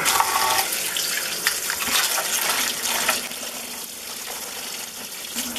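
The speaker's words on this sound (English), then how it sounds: "once you get most of the pulp out, it makes it a little easier to rinse it" Pumpkin seeds rinsed under a running kitchen tap, a steady close rush of splashing water with small shifts as the seeds are handled, with no talk.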